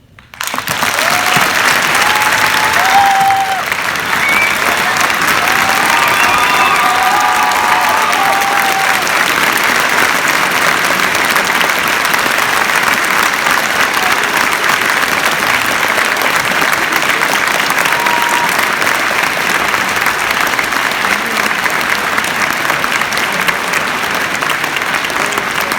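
Sustained, loud applause from a school assembly audience after an MLK Day speech, steady clapping filling the whole stretch with no break.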